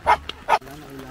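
A dog at a campsite gives two sharp barks close by, a short pause between them, followed by quiet background sound.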